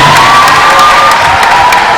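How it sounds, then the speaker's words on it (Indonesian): An audience at a university talk show cheers and applauds for Rhoma Irama, a loud, steady crowd roar with shouting voices over it. "Tepuk tangan buat Pak Haji Roma Irama."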